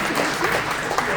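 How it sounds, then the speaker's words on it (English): A hall audience applauds after a business pitch presentation, a brief, loud and steady patter of many hands clapping. "And may I please have everyone give them a round of applause."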